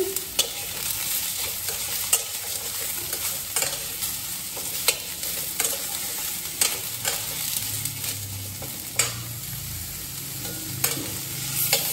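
Eggplant sautéing in oil in a pan while being stirred, a soft continuous sizzle broken by repeated scraping taps of the spoon at an uneven rhythm.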